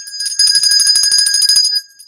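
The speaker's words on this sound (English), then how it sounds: "You keep ringing that bell," A bell rings steadily and brightly for almost two seconds, a run of rapid metallic strikes with sustained high ringing tones, loud and close, then fades to quiet with no talking.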